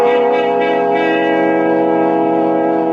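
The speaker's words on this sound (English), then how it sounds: "Well, I rang the bell, but no one answered." A loud doorbell rings as a radio drama sound effect, giving one sustained, resonant chime with bright overtones that holds steady for about three seconds with no voices.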